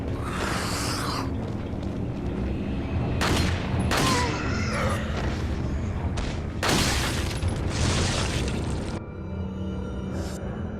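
Gunshots in the video game Resident Evil 4: several loud sharp bursts of gunfire spread over about ten seconds, set against a busy background of game sound and effects.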